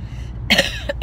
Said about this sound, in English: Start coughing, and never fails after 4 o'clock every time.